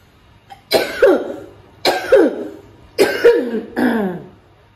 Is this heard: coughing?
yes